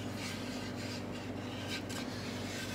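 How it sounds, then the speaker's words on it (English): A palm sander smoothing the wooden top of a demilune table during rough finishing, giving a steady, close, continuous buzzing rasp with a constant motor hum and no pauses or voices. "now just use the palm sander to get it a little bit smoother"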